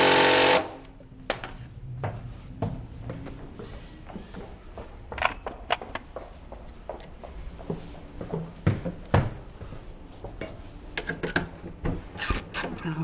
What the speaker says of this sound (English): For this one I'm gonna use the ratchet.